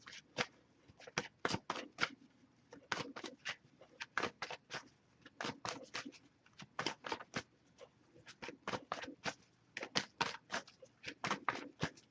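Tarot cards are shuffled repeatedly in quick riffling bursts, crisp and close, with short pauses between rounds.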